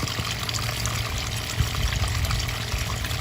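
Water carrying live minnows is poured into a pond, a steady splashing rush with a low gurgling churn that runs continuously and close by.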